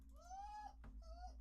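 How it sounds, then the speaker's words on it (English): A dog that has just woken from a nap whimpers in two drawn-out, high whines that bend in pitch, with a short gap between them, over a steady low background hum. "That is my dog who has woken up from his nap."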